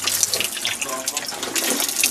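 Water pouring steadily from a cemetery fountain tap, a close, continuous splashing stream with no break.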